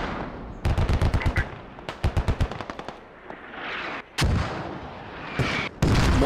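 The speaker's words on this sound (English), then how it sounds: "Mortars are still inside range here." Video game battle sounds from a Squad operation, with rapid rhythmic bursts of machine-gun fire followed by several heavy booming blasts consistent with mortar impacts, loud and close with no talking.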